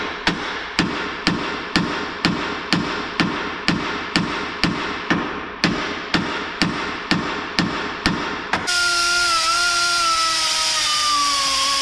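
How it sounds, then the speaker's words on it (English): A hammer strikes a new safety pin on farm equipment in a steady run of about twenty sharp metallic blows, close and evenly spaced, then a loud continuous whining tool noise with falling tones takes over. "put the one, new one in, then hammer it back down"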